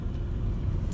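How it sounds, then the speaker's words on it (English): A Vauxhall Corsa Limited Edition being driven, its engine giving a steady low rumble heard from inside the cabin, with a brief light jingle near the end. "I love driving this car."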